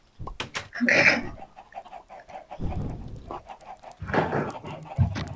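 Chickens in the video game Minecraft cluck in a few short, uneven bursts at moderate volume, with brief quieter gaps between the calls.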